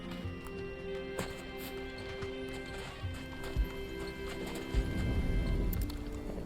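Hooves clip-clop in quick rhythmic beats from a horse in the Final Fantasy 16 video game, over game music and soft thuds, growing heavier and louder toward the end.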